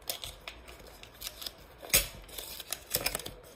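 A Brawl Stars card pack is torn open up close: a run of crisp ripping and crinkling bursts, the loudest sharp tear coming midway, then more rustling paper.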